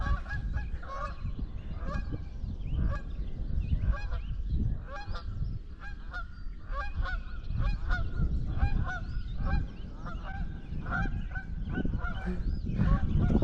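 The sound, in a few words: geese honking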